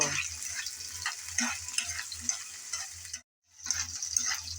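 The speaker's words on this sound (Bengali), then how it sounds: "ফুলকপি দিয়ে আবারও নেড়ে চেড়ে ভেজে নেব" Cauliflower is stir-fried in a pan, a soft crackling sizzle with scraping stirs, briefly cutting to silence before resuming, no voices.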